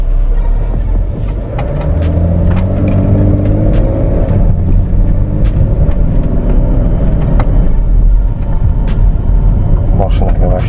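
A Mercedes E55 AMG or BMW drives in economy mode with a steady, loud low engine and road rumble heard from inside the cabin, with people talking throughout.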